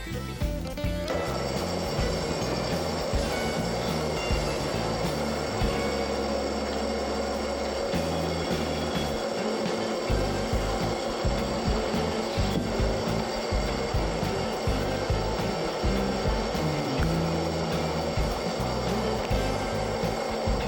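Lathe machining in an engine room with a high-speed steel finishing bit at 40 RPM and a shallow cut, making a continuous scraping, rasping drone with a low mechanical rumble beneath.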